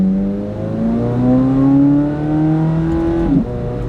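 A Chevrolet Corvette C8 Z06 with a 670 hp V8 revving to 8,600 rpm accelerates hard from inside the car, its engine note climbing steadily through a long gear, then briefly dipping at a shift before pulling again.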